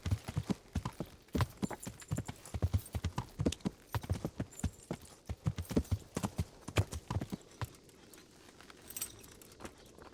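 Steady clip-clop of horse hooves at a walking pace in the video game Kingdom Come: Deliverance, close and continuous, with faint jingling like tack or harness.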